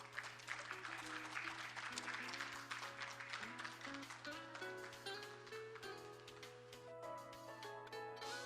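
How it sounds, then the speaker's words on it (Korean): An audience applauds at an international patent court conference, a soft, steady wash of clapping that lasts several seconds under faint background music. "큰 박수 부탁드리겠습니다."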